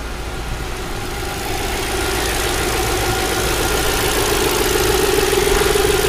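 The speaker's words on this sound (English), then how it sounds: "the car's idling really nice and smooth" An Audi S6 engine idles steadily after a misfire repair, a close, even, continuous rumble with a low hum and no stumbling, the level rising slightly after the first second and then holding constant.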